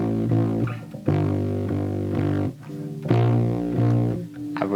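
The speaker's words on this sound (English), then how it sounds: "I really love that distorted sound though." An electric guitar played through heavy distortion and saturation for a song, with thick, sustained chords that change every second or so, close and loud, with no talking.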